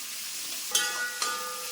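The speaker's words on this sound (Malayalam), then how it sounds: "നമ്മുടെ സവാള ഇതിൽ കിടന്നൊന്ന് മൂക്കട്ടെ. ഈ സമയത്ത് നമുക്ക് ആ വെളുത്തുള്ളിയും കൂടെ ഇട്ട് കൊടുക്കാം." Onions and garlic frying in a pan give a steady soft sizzle, with a few brief clicks and stirs of a spoon against the pan.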